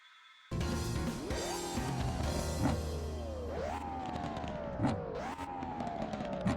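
Racing car gasoline engine in the Assoluto Racing video game, revving hard through repeated rising pitch sweeps with a drop at each gear change, loud and continuous with no talk.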